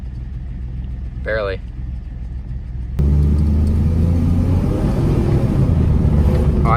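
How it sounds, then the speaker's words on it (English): A 2006 Dodge Dakota engine idles with a rough, uneven misfire, a loud, close rumble that swells after a brief spoken word. "Oh, it's doing the misfire."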